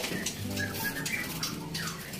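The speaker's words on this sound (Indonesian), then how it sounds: "Oke, Pak Udin, kita langsung cek kondisi burungnya." A trotol songbird being checked over by its keeper calls in a steady run of chirps and warbling notes, close and fairly clear against a light background hiss.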